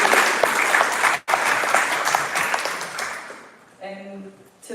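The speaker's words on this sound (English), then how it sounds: "Round of applause for the Keep Fit class." Guests at a book launch clap in a full round of applause that continues steadily, briefly breaks off, then fades as a speaker resumes talking at the end.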